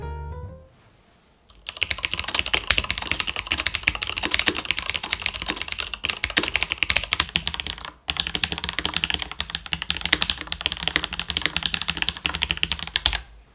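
Steady, fast typing on a mechanical keyboard with lubed MX-style switches giving smooth, muted keystrokes, close and alone after a brief quiet start, with one short pause midway.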